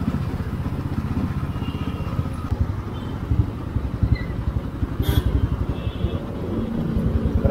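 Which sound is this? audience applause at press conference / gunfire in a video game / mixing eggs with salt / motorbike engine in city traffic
motorbike engine in city traffic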